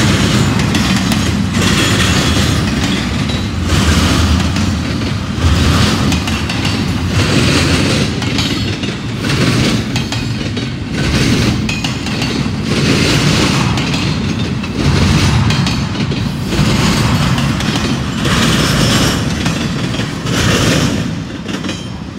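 A long string of loaded freight train cars rolls past close by, giving a steady loud rumble with a rhythmic clickety-clack of wheels over rail joints that repeats every second or two.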